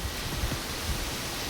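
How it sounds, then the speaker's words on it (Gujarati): Heavy rain pours down steadily, a dense, even hiss that stays constant throughout with no voices. "ભયંકર વરસાદ છે ભાઈ"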